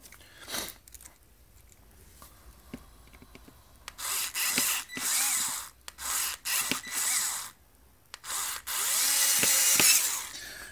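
PH1 Phillips bit on an electric screwdriver driving self-tap screws during an Audio-Technica AT-LP120 turntable repair: repeated close whirring bursts of motor and bit grinding against the screw head, with short pauses between runs and one longer final run.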